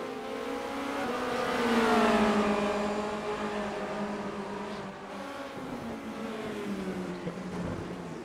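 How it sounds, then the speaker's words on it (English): Formula Renault race cars run their engines at a circuit, a sustained blend of high revving notes rising and falling as they accelerate and pass, steady and fairly loud with no voices. "I can hear engine noises"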